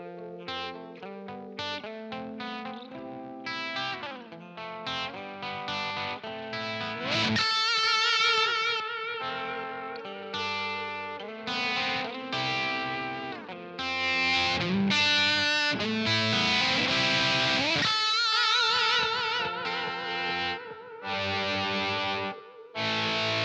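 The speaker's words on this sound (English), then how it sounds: "So if I play an echo sound on the effects loop, then turn it off and play something else" Electric guitar played through a Blackstar Ruby DA100 amp, distorted chords with an echo effect trailing and fading out as new phrases are played over it, loud and continuous with no talking.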